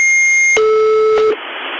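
A buzzer beep from the Russian shortwave station UVB-76, heard over the radio. A steady high electronic tone sounds with a louder buzzing beep for under a second, then gives way to a hiss of radio static.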